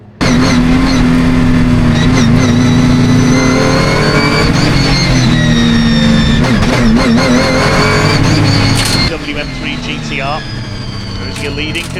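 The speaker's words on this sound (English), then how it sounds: "Time to go racing the Britcar Endurance Championship here at Donington Park." Porsche and Ginetta endurance race cars howl at Donington Park in a Britcar Endurance Championship race, loud sustained engine drones with shifting pitch and passing cars, followed by a quieter stretch, with a commentator talking over it.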